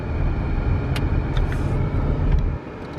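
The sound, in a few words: car driving through a neighborhood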